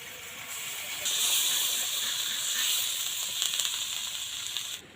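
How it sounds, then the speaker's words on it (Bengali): Water poured into a hot pan of fish curry made with saipon fish, bursting into a loud steamy hiss that swells, holds and tapers off, close up with no talking. "নাড়াচাড়া করে জল দিয়ে দেবো জল"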